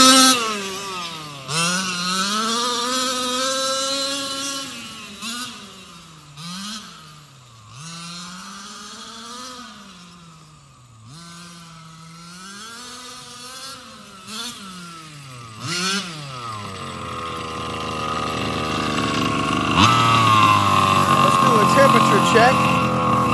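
A Losi MTXL RC monster truck's motor revs up and down over and over, loud and close with a whining, swooping pitch, then settles into a rougher, steadier roar toward the end.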